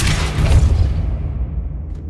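The Depulso force-push spell cast in Hogwarts Legacy, a loud deep whooshing boom that swells quickly and then trails off into near silence.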